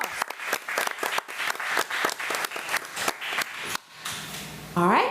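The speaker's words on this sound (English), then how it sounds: "So let's give Ms. Williams another round of applause." Brief applause from a committee meeting audience, uneven scattered claps that stop partway, followed by a short voice at the end.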